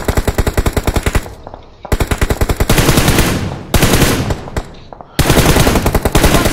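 Rapid automatic gunfire bursts from a battle royale shooter, loud and close, coming in several long strings separated by brief gaps, with heavy echoing shots filling the middle stretch.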